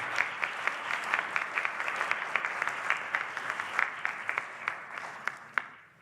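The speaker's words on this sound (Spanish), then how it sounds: "con un fuerte aplauso lo recibimos" An audience applauds to welcome a guest at a national solidarity day event for child victims of sexual abuse, with distinct claps standing out above a steady wash of clapping for about six seconds, moderately distant and without talk.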